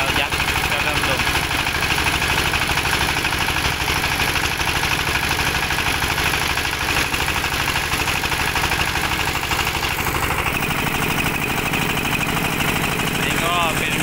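A small 2-horsepower engine runs a rice mill, droning loud and steady at close range, with a slight shift in its tone after about ten seconds.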